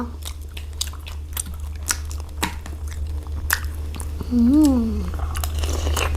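Crispy fried pork belly with garlic chewed close to the mic, soft wet crunches and bites repeating steadily, with a brief hummed voice near the end.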